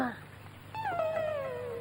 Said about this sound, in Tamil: நாய்க்கு பூந்துருச்சா?